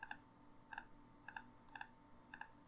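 Mouse or keyboard clicks while building a deck in the game Paragon, quiet and crisp, coming in quick double taps spaced at a roughly even pace with nothing else heard.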